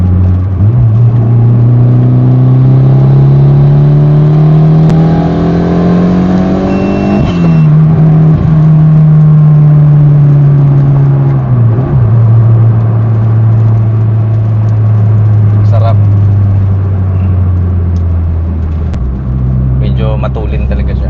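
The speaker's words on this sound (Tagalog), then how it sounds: "Medyo matulin na rin talaga to guys kasi siyempre almost 300 horsepower na tayo." A turbocharged car making almost 300 horsepower accelerates hard. Its loud engine note climbs steadily through a long pull, drops at each shift and climbs again, with a rising whir throughout. A person speaks over it.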